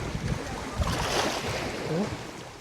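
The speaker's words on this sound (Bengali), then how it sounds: "একটু কাছ থেকে আপনাদেরকে দেখাই যে কাপ্তাই লেকটা এখন কতটা উত্তাল অবস্থায় আছে" Rough, choppy waves on Kaptai Lake in Rangamati, a steady broad wash of churning water and wind noise close by, with no clear voices.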